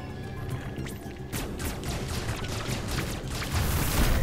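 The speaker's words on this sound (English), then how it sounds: "Brain explosion." Explosion from the Metroid Dread video game, a loud rumbling blast with crackling debris that sustains over several seconds amid game noise.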